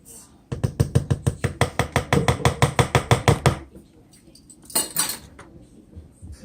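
A utensil beating pancake batter from scratch in a bowl, a fast run of about twenty sharp rhythmic clinks against the bowl, then a pause and one brief scraping stir, close and fairly loud.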